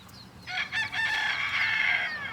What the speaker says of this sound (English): Look at the chicks.